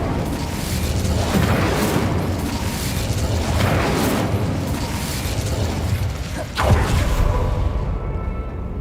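Incendio fire spell cast in the video game Hogwarts Legacy: loud rumbling, crackling bursts of magical fire roll on continuously, with a sharp whoosh and pop near the end before it fades.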